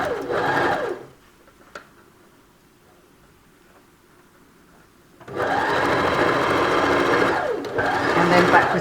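A sewing machine stitches quilted fabric for a 3D face mask, its steady motor hum running loud and close, pausing for a few seconds of near quiet before starting up again.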